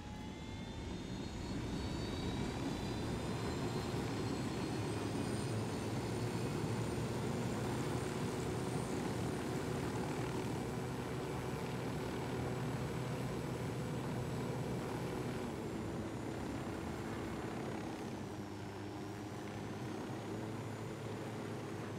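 A helicopter flies in the Ghost Recon Wildlands video game, its rotor and engine drone holding steady and close for the whole stretch, with a brief dip and wobble in pitch near the end as it turns.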